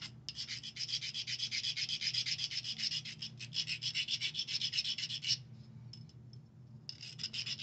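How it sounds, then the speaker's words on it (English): Stilt marks sanded off the base of a glazed ceramic spoon: steady, rhythmic abrasive rubbing strokes, close and continuous, easing to lighter scrapes near the end. "but I just sand those down."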